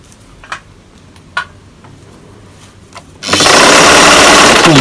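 A sewing machine stitching a dress made from T-shirts: after a few quiet light ticks, it starts abruptly with a loud, steady, fast whirring hum that continues to the end.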